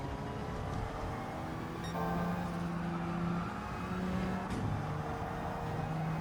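Race car engine in the Gran Turismo video game, a Gr4 4C accelerating out of corners, with a steady droning engine note rising and shifting pitch, fairly quiet.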